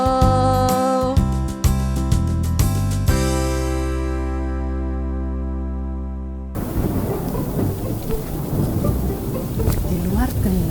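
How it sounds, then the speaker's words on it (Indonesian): A thunderstorm with heavy rain outside, a dense steady downpour with rumbling, following the end of a musical song. "Di luar gelap, hujan, ada petir."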